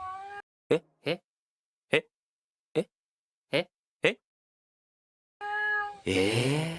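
A person imitates the call of a female cat in heat with a series of short, nasal, evenly spaced yelps, followed by a longer wavering cat-like wail at the end.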